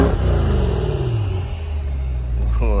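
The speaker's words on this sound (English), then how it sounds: "Let's see if we can give it a baby rev real quick." A C8 Corvette idles with a steady low rumble and gets a brief, light rev near the end, the engine swelling up close while a person talks over it.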